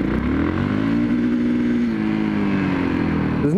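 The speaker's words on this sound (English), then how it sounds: "You can feel that starting to chug under 2 grand." A 2013 Yamaha MT03 motorcycle engine chugging at low revs just under 2,000 rpm, a steady, loud, throbbing drone that holds evenly throughout with a slight dip in pitch midway.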